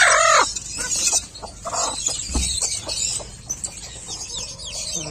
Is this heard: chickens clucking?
yes